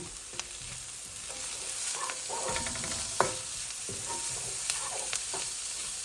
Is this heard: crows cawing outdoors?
no